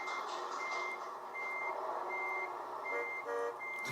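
Steady reversing beeps repeat through Euro Truck Simulator 2 gameplay as a Volvo FH16 truck backs up to rehook its trailer, layered over a broad engine and road rumble, with a few sharper tones near the end.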